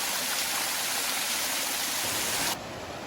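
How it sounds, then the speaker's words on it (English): Sweat Heifer Cascades waterfall in the Great Smoky Mountains rushes as a steady, dense wash of falling water. It stays constant and fairly soft for about two and a half seconds, then drops away abruptly. "This might be Sweat Heifer Cascades because it's much more dramatic and it kind of keeps rolling along that way."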